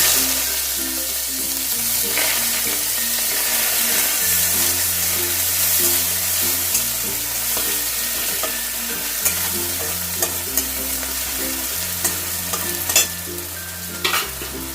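Onions frying in a pan with cumin seeds for chire pulao, a continuous loud sizzle with repeated stirring and scraping strokes, plus a faint background hum that steps between tones.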